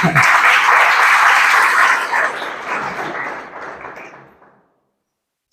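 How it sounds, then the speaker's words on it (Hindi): A church congregation claps for God during a Sunday service, dense loud applause for about two seconds that gradually thins and fades out, followed by near silence. "और परमेश्वर के लिए तालियां बजा सकते हैं लड़के"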